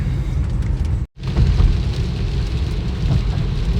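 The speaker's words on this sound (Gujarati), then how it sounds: "ફાઇનલી આવવા માંડ્યો વરસાદ." Rain begins to fall outdoors as a loud, dense rush of drops, briefly cut out for an instant before resuming at full strength with no voices heard.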